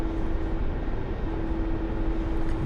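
Attack helicopter in a flight combat video game, a steady loud engine drone with a sustained mid tone running throughout, no voices.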